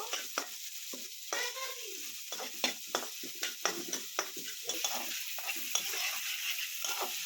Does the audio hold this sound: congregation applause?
no